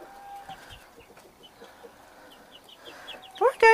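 Homestead roosters from a recent hatch cluck and call softly at a short distance, then a loud, close burst of crowing and squawking breaks out right at the end.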